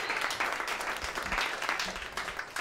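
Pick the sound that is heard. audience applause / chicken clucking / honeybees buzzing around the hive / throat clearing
audience applause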